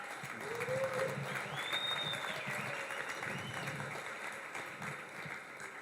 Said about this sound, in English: Please give a round of applause to Rush Hill.